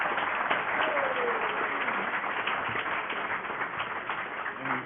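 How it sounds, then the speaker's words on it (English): Audience applause at a DevOps conference talk, a steady wash of clapping from a room of attendees, with faint talk underneath. "can I get a round of applause?"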